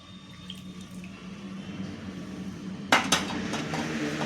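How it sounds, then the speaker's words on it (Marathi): Water trickles into a bowl of flour, then hands knead banana-dough with soft wet squelches and a few sharp clinks of a vessel, close and quiet with no talk. "हे पाणी आता घालून मळून घेऊया"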